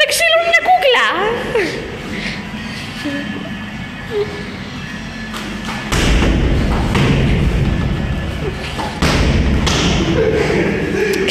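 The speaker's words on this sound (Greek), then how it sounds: "παίζουν ξύλο με μια κούκλα" Heavy thuds from kicking and hitting a doll, several dull impacts at irregular intervals, loud and close, with people talking and laughing over them.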